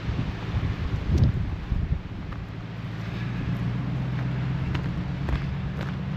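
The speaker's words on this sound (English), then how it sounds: "The wind is pretty noticeable here. It's a west wind today." A steady west wind blows across an open seawall picnic area on a rocky coast, giving a continuous low rumble and buffeting with a few brief gusts at the start.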